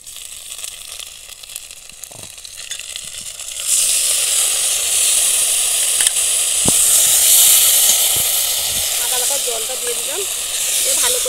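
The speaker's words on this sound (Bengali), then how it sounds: "ভালো করে একটু কষাবো।" Ginger paste, added with turmeric to fried garlic and onion for a chicken curry, is sautéed in a pan. After a quieter start it bursts into a loud, steady, close sizzle with a few faint utensil taps.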